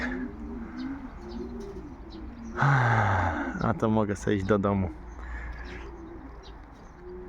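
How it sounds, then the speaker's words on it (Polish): Soft, repeated pigeon coos murmur in the background while a person speaks briefly in the middle, outdoors. "Teraz będą latać z ojca gołębiami"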